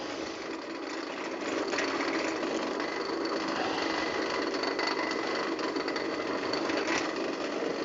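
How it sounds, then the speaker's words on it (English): A steady, high-pitched whirring drill grinds continuously through plastic for several seconds, close and fairly loud, with no talking. "Plastic's fairly easy to work with for drilling."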